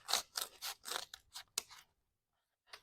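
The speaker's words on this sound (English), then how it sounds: "I'm going to cut this off." Scissors snip through paper leaf templates for a Halloween flower craft, about seven quick close crisp cuts in a row, then a pause and one more snip.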